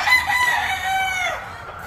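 An Asil rooster crows once, a clear, drawn-out call with a rising then falling contour, close by and alone with no voices.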